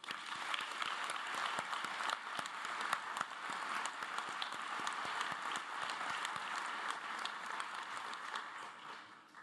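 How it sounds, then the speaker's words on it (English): Audience applause at a North Shore school's 58th commencement ceremony, sustained and fairly distant, many hands clapping in a continuous even wash from start to finish. "Let's take a moment to give them a round of applause"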